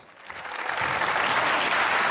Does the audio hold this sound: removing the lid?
no